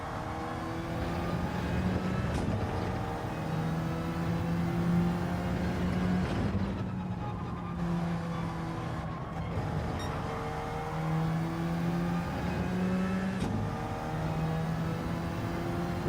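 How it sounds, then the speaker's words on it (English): Race car engine in a racing video game at Brands Hatch, revving steadily through gears with rising and falling pitch, sustained and close, with brief shifts and a couple of sharp transients along the lap. "Rev it out."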